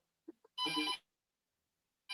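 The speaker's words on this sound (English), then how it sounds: "That's the old school ring." Old-school telephone bell ringing in a single short burst, bright and metallic, preceded by faint brief noises and followed by silence.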